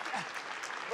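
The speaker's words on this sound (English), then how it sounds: "Round of applause from the audience." Crowd applause rolls steadily through a Japanese pro wrestling tag-team match, dense clapping filling the arena at even loudness with a commentator's voice running underneath.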